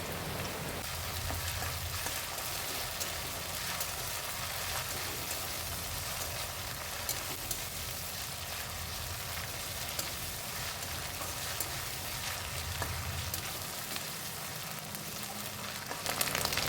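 Ginger garlic paste hits browned onions in a hot pan for a chicken dish, giving a steady, close, even frying hiss that runs unbroken throughout, with no voices.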